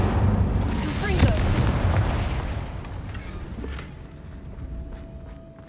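Magical Incendio and Confringo spell blasts from Hogwarts Legacy go off in a booming burst, a loud fiery explosion that rumbles and then fades into a quieter crackling tail.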